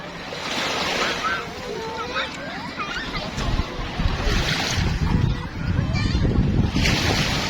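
Sea waves roll in at Bangsaen beach in Thailand, a loud, broad wash of surf with gusting wind noise on the microphone, while adults and someone talk and squeal over it.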